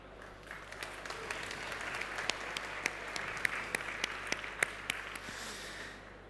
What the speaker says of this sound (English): Don't they deserve an applause?